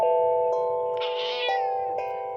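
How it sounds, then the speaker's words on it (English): A house cat meows indoors, a clear, drawn-out call rising and falling against a steady hum, heard close and alone without any talk. "And my cat says hello."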